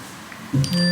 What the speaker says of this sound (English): I think that was my phone.